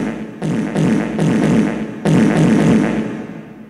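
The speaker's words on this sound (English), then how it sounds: "when it comes out of the ground, it makes a continuous wet fart sound" A pipe rising from the ground in Teletubbies lets out a loud, continuous wet spluttering fart-like sound that restarts in several surges over a few seconds.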